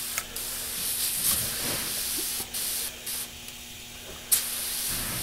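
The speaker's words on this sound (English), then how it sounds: "I always spray alcohol through first, make sure the guns are nice and clean" Bursts of a tattoo airbrush spraying alcohol through the guns hiss in short on-off pulses, sharp and close, with brief gaps and small clicks between sprays.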